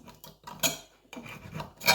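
A knife saws through a freshly pan-fried steak, quick rasping strokes close up, with short pauses between cuts.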